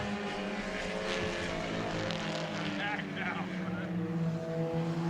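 Four-cylinder race car engines rev hard around a Friday-night oval track at Auburndale, a sustained loud buzzing roar with shifting pitch as cars pass, while a commentator talks over it.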